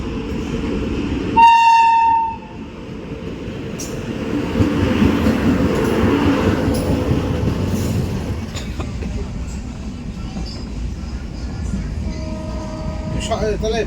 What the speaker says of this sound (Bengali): চলে এসছে ট্রেন, এই যে কাঞ্চনকন্যা।